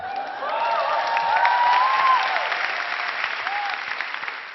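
Applause with some cheering from a lecture audience at a Korean talk event, a steady wash of clapping that swells and holds for several seconds before easing slightly.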